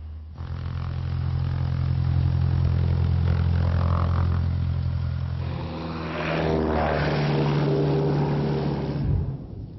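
Propeller engine of a Cessna light aircraft during takeoff, a loud steady drone with strong low harmonics that swells and shifts pitch as power builds, heard alone without talk.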